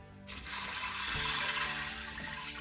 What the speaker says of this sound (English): Then you add some water until it's slightly halfway.